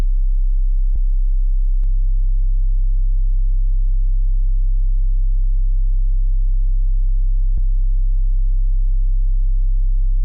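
A steady low sine-wave tone from the Serum 2 synthesizer hums throughout, thickening slightly after a couple of seconds as a third harmonic is added, with a few faint clicks and no voices.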